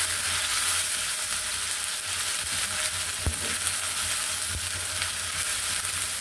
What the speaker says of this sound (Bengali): পেঁয়াজ বাটা, আদা বাটা, রসুন বাটা দিয়ে দিলাম, কারণ হচ্ছে তেলটা অনেক গরম হয়ে গেছে